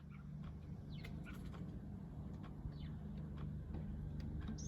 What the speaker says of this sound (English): That's the sound of the blackbird alarm